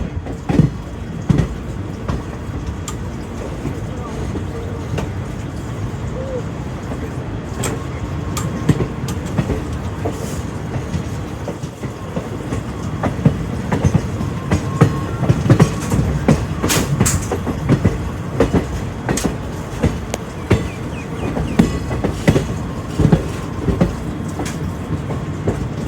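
Kanchanjunga Express passenger train, No 13176, running on a rainy day with steady rolling rumble and repeated clickety-clack of wheels over rail joints, close and continuous throughout with no talk.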